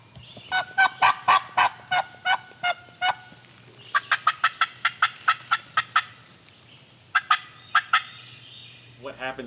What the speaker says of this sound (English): the other turkey starts advancing, and we can hear it